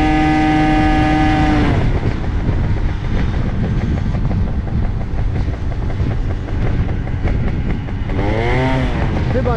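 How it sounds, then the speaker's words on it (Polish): A small scooter or DT 125 motorcycle engine runs loud and close, its steady droning revs rising and falling with uneven, faltering stretches. "Moja tak jakoś ta skutera trochę przerywa."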